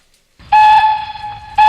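Steam train whistle effect played from a sound board: a loud, clear, sustained blast lasting about a second, followed by the start of a second blast, with no talking.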